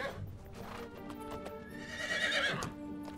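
Shadowfax, the horse in Lego Lord of the Rings, gives a loud whinny over quick clip-clopping hoofbeats, a brief close burst with a rising neigh near the end.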